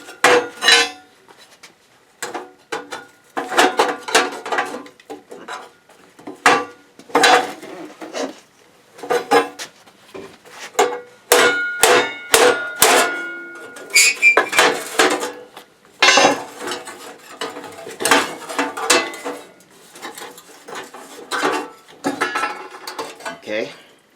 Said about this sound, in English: so now let me try to pry the pieces out.